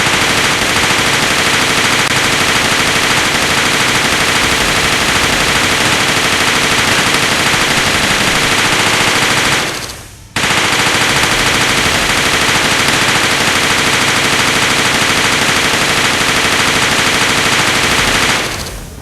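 Autocannons in Space Engineers roar in a dense, loud, continuous stream of rapid fire for about ten seconds. They break off in a brief gap, then resume just as relentlessly until the end.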